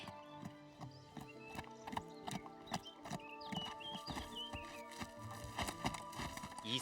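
Horse hooves clip-clop in a steady rhythm as a rider travels, the clattering beats quite faint and close with no voices, set in the Gundam anime Mobile Suit Gundam: The Origin.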